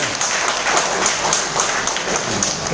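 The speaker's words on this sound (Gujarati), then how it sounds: "Please welcome. જોરદાર તાળીઓથી" Steady applause from an audience at a business product event welcoming a speaker, a dense wash of many clapping hands at even loudness throughout.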